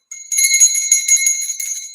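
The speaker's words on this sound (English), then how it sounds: "There's the bell." A bell rings out loud and bright with sustained, shimmering tones that swell and pulse for a couple of seconds.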